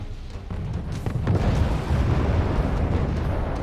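Artillery explosions in the war strategy game Wargame AirLand Battle, a heavy low rumbling boom that swells after a second and rolls on loudly, with overlapping blasts blending into a sustained roar.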